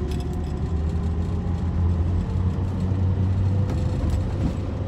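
A BMW E9 CSA coupe engine drones steadily from inside the cabin while driving, with a low, even rumble and road noise throughout.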